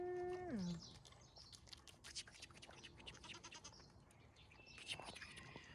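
A goat bleats once, a quavering call up close, followed by quieter rustling, scattered animal sounds and a faint voice in the background.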